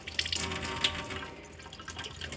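Water runs from a tap onto paper towels, a close steady splashing and trickling with small spattering drips, without talk.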